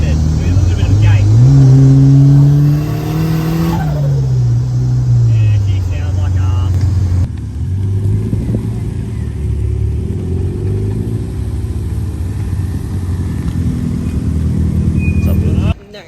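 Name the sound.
Nissan S13 with SR20 engine revving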